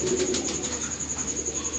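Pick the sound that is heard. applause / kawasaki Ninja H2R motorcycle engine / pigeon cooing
pigeon cooing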